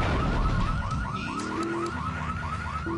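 A car alarm wails in Grand Theft Auto III, its rapid rising sweeps repeating steadily and loudly over a constant engine-like rumble, with no talking.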